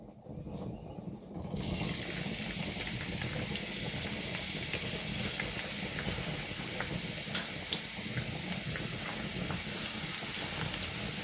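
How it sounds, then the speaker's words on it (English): Steady sizzling and crackling of onions frying in a hot pan on a stove, starting after a short quiet moment and continuing evenly with occasional pops. "Let me start frying the onions."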